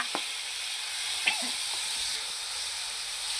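Finely chopped onion sautés in hot oil in a pan for a spicy green tomato bhaji, giving a steady, close frying sizzle and hiss throughout, broken by a couple of faint utensil taps.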